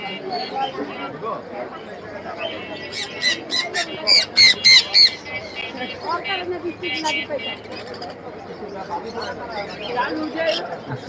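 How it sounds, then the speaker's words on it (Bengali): Sharp bird squawks burst out in a quick cluster amid chatter and background voices, with rain-like noise underneath. "বৃষ্টির ভিতরে পাখিগুলোর অবস্থা খুবই খারাপ"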